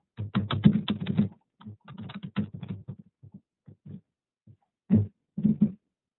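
A computer keyboard is typed on at close range, quiet clustered keystrokes coming in quick bursts with short pauses between them.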